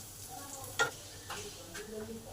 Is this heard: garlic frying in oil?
yes